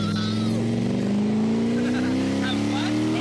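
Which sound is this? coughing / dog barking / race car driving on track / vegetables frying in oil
race car driving on track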